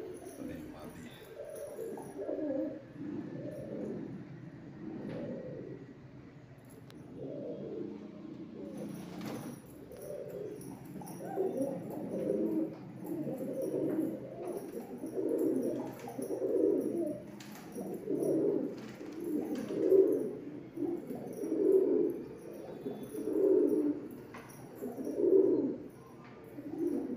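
Madrasi pigeons coo softly and steadily in repeated low, rolling calls close by, with faint chirps and background noise in between.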